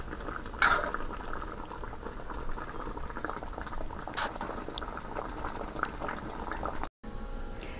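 Hassar fish curry with tomato simmering and bubbling steadily in a pot, a continuous close boiling hiss with faint utensil clinks, cut by a brief silence near the end.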